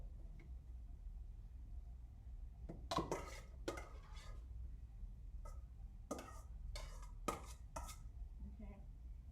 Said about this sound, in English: so I'm gonna split the rest of my noodles between my 2 pans.